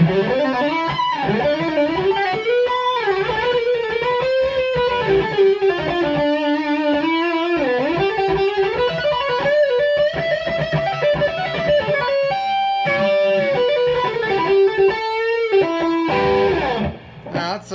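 An electric guitar plays through a vacuum tube pedal with the gain turned up, giving a loud, gritty distorted tone. Notes and chords ring out continuously for several seconds, close and steady, with no talking.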